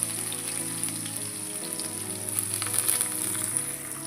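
Ginger, garlic, curry leaves and onion sizzling in a frying pan, a close, continuous crackling fry with a steady low hum beneath it and no talking.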